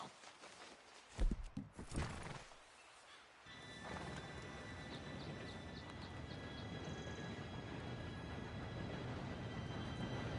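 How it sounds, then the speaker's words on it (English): A train draws near in Red Dead Redemption 2, its low rumble building into a steady rolling roar with faint high whistle-like tones, after a short burst of horse hooves and movement. "Train should be here any minute"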